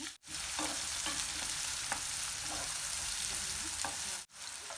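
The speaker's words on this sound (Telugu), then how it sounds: "సన్నగా తరిగిన ఆనియన్స్ కూడా వేసేసి బాగా కలుపుకొని" Thinly sliced onions frying in hot oil while being stirred, a steady close hiss with soft irregular spoon scrapes, broken by two brief dropouts, no talk.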